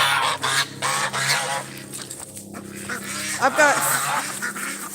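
Geese and ducks honk and quack at dusk on a farm, a noisy flock close by with repeated calls over several seconds while a person speaks.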